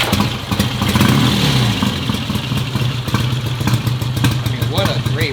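A 72-year-old British motorcycle engine idling with a steady, clattery mid-range rumble, running close by with someone talking over it.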